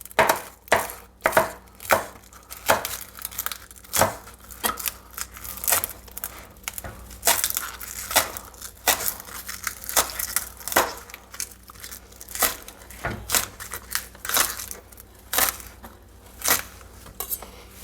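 A knife chops green pepper on a cutting board while homemade chili is prepared. Quick, steady, close-up knocks repeat through the whole stretch, and no voices are heard.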